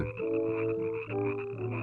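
A chorus of frogs croaks continuously in a steady, droning mass of overlapping calls, close and loud with no voices over it.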